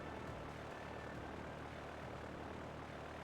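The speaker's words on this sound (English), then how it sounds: "It's such a shoddy looking plane." Steady engine drone from an airplane in the Pokemon Blaze Black 2 Redux game, a continuous, even hum and whoosh held at a constant level throughout with no speech.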